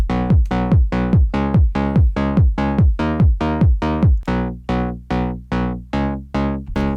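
The Dream preset from a Eurotrance synth pack in Ableton, a bright plucky synth playing a steady run of short, evenly spaced notes with quick filter sweeps, loud and alone.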